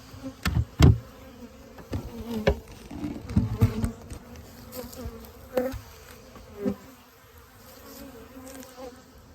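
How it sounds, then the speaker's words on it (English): Honeybees buzz inside an opened winter beehive as fondant is fed, a steady close drone punctuated by sharp knocks and bumps from handling the hive top and frames. "A bunch of them bees in there too."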